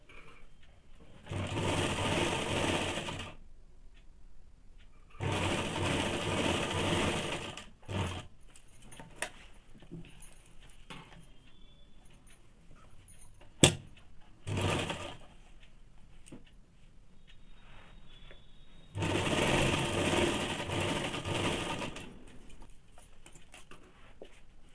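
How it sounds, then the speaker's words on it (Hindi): A sewing machine stitches fabric for men's underwear in loud, steady runs of several seconds each, broken by quiet pauses with small clicks and handling noises. No one talks. "अब इसको सिलाई कर लेंगे।"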